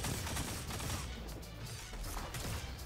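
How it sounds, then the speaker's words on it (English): Rapid, dense gunfire in Destiny 2 crackles continuously in quick bursts, loud and close, filling the whole short moment without talking. "I'm literally shooting at someone else"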